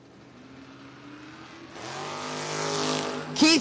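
Drag race launch between an 1980 Chevrolet Camaro and a 1970 Chevrolet Nova, engines droning steadily, then surging into a loud full-throttle roar before a brief louder burst at the end.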